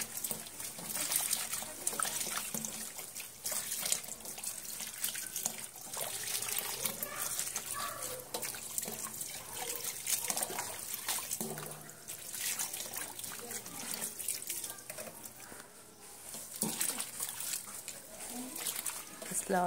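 Sidra fish are gently stirred and rinsed in clean water, giving a quiet, ongoing trickle and dribble with small splashes, while someone talks over it.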